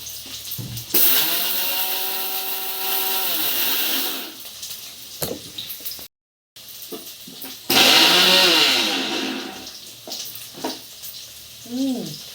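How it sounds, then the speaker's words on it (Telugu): A kitchen mixer grinder whirs loudly through fried masala for egg puffs in two long bursts split by a short pause, its motor pitch rising and falling, followed by brief clatter. "ఇందాక మనము మసాలా కోసం ఫ్రై చేసి పెట్టుకున్నాం కదా వీటిని ఇప్పుడు మిక్సీ పట్టేసుకున్నాం"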